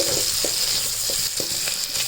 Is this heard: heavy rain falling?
no